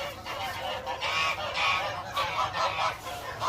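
Geese on a goose farm honk repeatedly in overlapping calls at close to moderate distance, forming a continuous noisy chorus with no speech.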